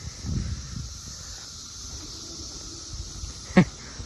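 A steady, high-pitched cicada drone hums faintly throughout in Montgomery County, Maryland, with a brief soft knock near the end.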